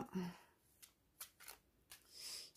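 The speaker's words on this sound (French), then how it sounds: "on va donc maintenant battre les cartes" A deck of oracle cards, Messages du Paradis by Doreen Virtue, is shuffled by hand in quick, soft riffling bursts and slides, quiet and close.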